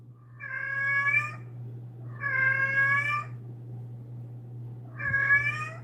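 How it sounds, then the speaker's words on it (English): A cat meows three times, each call drawn out and evenly spaced with short gaps between, clear and close over a steady low electrical hum. "That's my cat. My cat."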